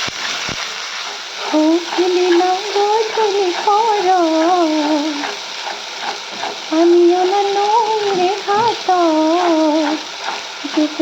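Onions and spices sizzle steadily in oil in a pan beneath a voice talking over it, the frying hiss continuous and close throughout.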